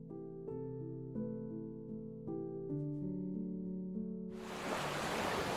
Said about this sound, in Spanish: al chocar las olas contra el acero y filtrarse entre las rocas